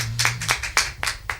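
A handful of separate hand claps ring out at an irregular pace over a low hum during a public discussion in Jember, fairly close and moderate in level.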